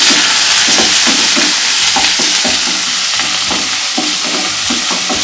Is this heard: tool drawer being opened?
no